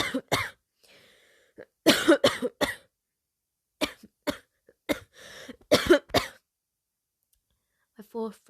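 Repeated harsh coughing in irregular bursts, several clustered fits separated by short pauses, close and loud, in a wine cellar scene where the cough is blamed on nitre.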